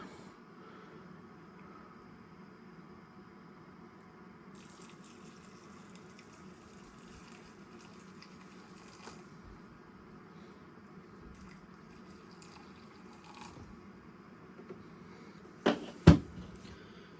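Water pours steadily into a container of loaded shelf-stable ramen, a continuous faint trickle and rush lasting several seconds, ending with a couple of sharp clunks.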